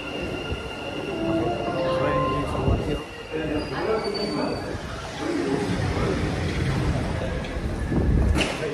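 A train rumbles and squeals at a metro station in Dubai as passengers get off, a loud steady roar of wheels and cars with a few people talking beneath it.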